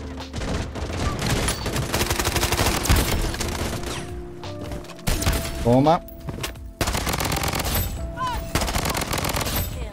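Sniper rifle and automatic gunfire in the shooter video game Blood Strike, dense loud rattling bursts and sharp cracks filling the whole stretch, with someone speaking briefly over them.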